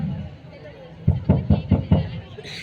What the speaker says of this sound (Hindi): सर सैयद ने बनारस के घर की कुंडी भरी दोपहर में खटखटा दी।